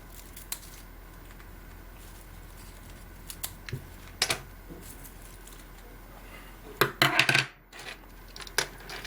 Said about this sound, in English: I'll just grab the scissors and give this a cut.